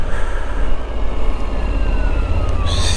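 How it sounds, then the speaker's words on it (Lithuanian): A faint police siren wails in the distance on a country road during a motorcycle ride, its rising and falling tone partly masked by steady wind and road rumble. "Kažkur girdėjau policiją, kad greitoja, bet nesimato."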